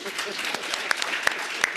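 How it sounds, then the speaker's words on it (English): Brief applause from an audience at a business event, a quick burst of clapping with a few sharp individual claps standing out, voices mixed in. "A round of applause."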